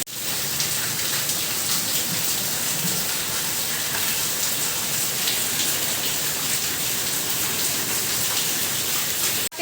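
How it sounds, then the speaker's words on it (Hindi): Heavy midday rain pours down steadily for the whole stretch, a dense, even hiss of drops striking surfaces with no pauses and no voices. "तेज़ बारिश हो रही है"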